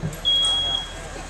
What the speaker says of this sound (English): we now have a smoke alarm that in just less than a minute has activated